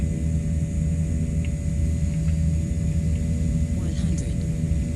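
A Canadair CL-415 water bomber drones steadily in flight in MSFS 2024 during a wildfire-fighting sortie over Southern California. The low propeller rumble holds constant, and faint radio chatter and voices are heard over it.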